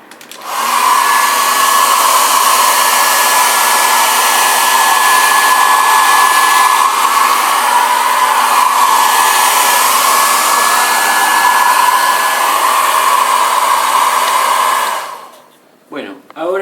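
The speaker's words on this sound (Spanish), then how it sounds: "también pueden usar este aparato, secador de pelo, para secar la hoja y agilizar este proceso de tensado del papel" A hair dryer blows on watercolour paper, a loud, steady whirring roar held for about fifteen seconds before it is switched off and winds down.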